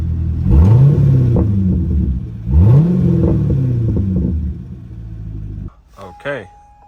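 A 2013 Chevrolet Corvette C6 engine revs loudly twice from idle, each rev climbing and falling back into a deep rumble before cutting out; a person speaks briefly at the end.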